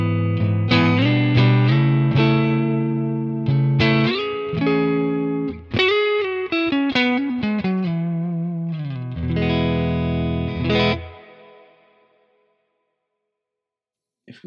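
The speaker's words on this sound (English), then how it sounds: "So this is a little bit of a modulated reverb," An electric guitar run through the modulated reverb on a Nano Cortex plays a steady sequence of sustained, shimmering notes that bloom into a washy tail, then ring out and fade to silence.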